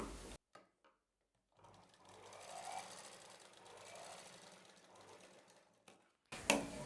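A sewing machine stitches along the edges of cloth folded crosswise, for a blouse back neck design. It runs with a steady whirring hum for several seconds after a quiet start, then gives a brief loud burst at the end.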